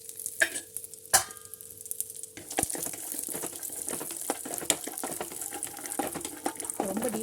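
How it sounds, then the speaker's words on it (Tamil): Walnuts being dry-roasted in a pan, with scattered clicks and scraping stir sounds over a soft continuous sizzle-like hiss, fairly quiet and close. "இப்போது வால்நட்டு நம்ம கீழே வந்து ரோஸ்ட் பண்ணி எடுத்துக்கலாம்."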